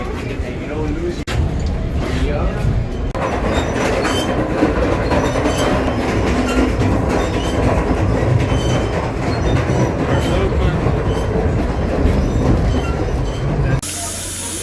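Steady rumble and rattle of the Polar Bear Express passenger train rolling on rails to Moosonee, Ontario, heard from inside, with clicking wheels and people talking faintly under the noise.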